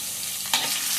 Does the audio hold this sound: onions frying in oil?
yes